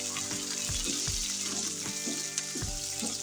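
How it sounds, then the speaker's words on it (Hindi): Chicken pieces for restaurant-style chili chicken in black pepper sauce go into a frying pan and get stirred, a steady hiss of frying with several low thuds and scrapes as the pieces drop and are mixed. "पहले मैं इसमें चिकन डाल दूंगी, ठीक है। हल्का सा मिक्स करेंगे।"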